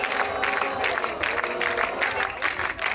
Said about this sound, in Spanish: Arriba el aplauso, señores, para Carlito.